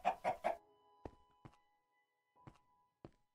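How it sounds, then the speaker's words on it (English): A Minecraft chicken gives three quick clucks in a row, close and clear, followed by a few sparse soft thuds like footsteps in an otherwise quiet scene. "That's a chicken."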